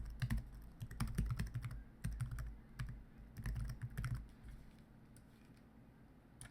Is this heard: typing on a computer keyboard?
yes